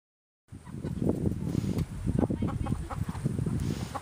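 Chickens clucking nearby in a busy, continuous run of short, scratchy bursts, moderately loud and without clear voices.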